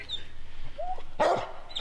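A hunting hound gives a whine followed by a single sharp, close bark, with faint yips around it in a quiet outdoor setting.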